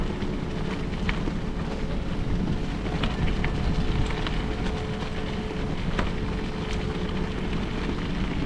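Strong headwind roaring steadily against a cyclist on the Pine Creek Rail Trail on a cold, rainy April day, a continuous loud low rumble of wind buffeting the microphone with no letup.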